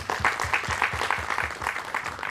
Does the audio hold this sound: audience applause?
yes